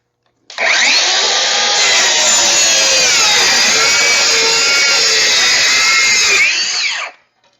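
A DeWalt 20V circular saw cuts through plywood in one loud, sustained whine, starting abruptly, holding steady for about six seconds with a slight strain, then spinning down.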